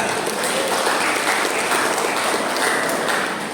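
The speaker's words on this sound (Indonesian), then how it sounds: "Tepuk tangan buat SMP kita" An audience at a farewell ceremony for ninth-grade students of SMP Negeri 16 claps for the school, a dense, even round of applause that holds steady throughout.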